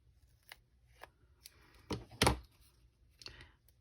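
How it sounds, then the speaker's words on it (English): Non-stick scissors snip small paper pieces for a Nativity Scene card project, with a few crisp isolated cuts spaced through the moment and one louder, fuller snip near the middle, close and alone without talk. "that is perfect when you have those non-stick scissors, because they really prevent any of these little pieces to stick to your scissors when you cut them"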